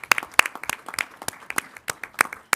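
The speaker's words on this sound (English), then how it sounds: "big round of applause" Applause at a regular board meeting: a small group claps in sparse, uneven bursts, the individual claps close and distinct rather than a dense roar.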